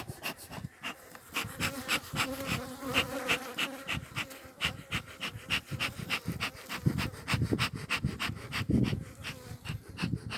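A dense, continuous buzzing hum of bees around a hive calmed by a lit beekeeper's smoker, with pulsing rhythmic noise throughout, close and fairly loud.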